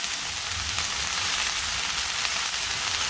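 Small potatoes, stems, bottle gourd shoots, eggplant and two small green tomatoes sizzle and fry steadily in a hot pan, a dense, even hiss holding at the same level throughout with no voices.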